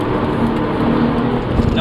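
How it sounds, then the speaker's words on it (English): A Porsche 911 drops a gear on the road, its engine note a steady close drone with a slight rise in pitch near the end, under faint background noise. "you hear that little downshift there?"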